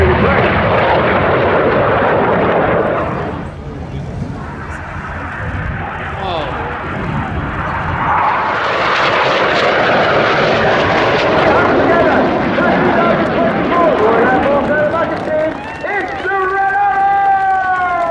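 Display jets fly past at an anniversary air show, a loud roaring rush that swells, dips and builds again, with a commentator talking over it.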